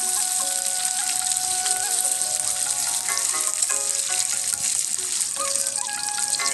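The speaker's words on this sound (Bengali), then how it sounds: "আমি বেরেস্তাটা ভেজে দেবো।" Sliced onions for beresta sizzle and crackle in hot white oil for a Bengali-style dahi chicken, a loud, dense, steady frying hiss that runs unbroken throughout with no talk.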